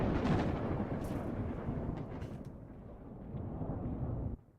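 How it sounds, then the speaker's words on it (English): A long roll of thunder during a severe summer thunderstorm in Ontario, loud and heavy rumbling that holds steady, swells slightly, then cuts off abruptly, with no voices. "Can you hear the lightning and thunder?"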